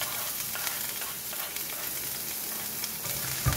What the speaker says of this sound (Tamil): இவ்வளோத்தையும் ஒரு 1 minute வந்து ஃப்ரை பண்ணிடலாம்.